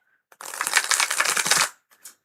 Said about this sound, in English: These are lovely cards to shuffle.